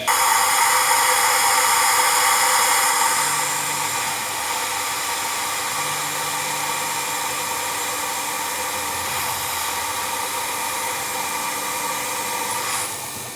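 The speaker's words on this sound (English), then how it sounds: "here we are at the last milling operation" A milling machine cuts a modified canopy bracket for a Long-EZ aircraft, a steady loud whirring hiss that drops slightly in level after a few seconds and continues evenly to the end.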